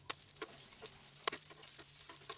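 A bread snack cooking in a pan over a medium-high flame, a light crackling sizzle with scattered sharp pops and a few scrapes, close and quiet.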